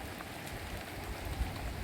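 Steady, fairly faint rain patters over the Sharavathi river backwaters near Honnavar, a continuous even hiss with no voices.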